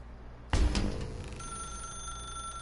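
A telephone bell starts ringing suddenly and loudly, a bright metallic jangle that settles into a sustained ringing tone, alone with no voices.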